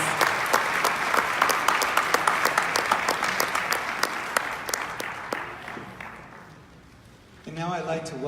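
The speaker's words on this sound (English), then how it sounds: "Let's give them all a big round of applause." An audience at a Santa Fe fiesta queen competition applauds steadily with many hands clapping, loud and close, then fades before a voice speaks over a microphone at the end.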